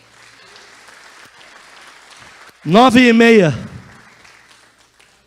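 A church congregation applauds softly at a service, then a loud voice breaks in over the clapping and dominates before the applause trails off.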